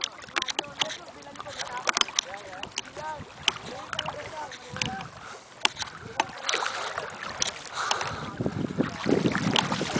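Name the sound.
boat moving on water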